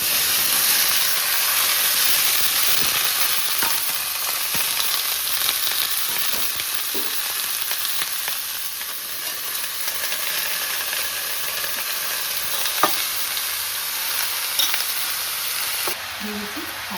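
Mixed vegetables hit hot oil with turmeric for a Bengali dalna and set off a sustained loud hiss and sizzle, broken by occasional scraping stirs over about seventeen seconds.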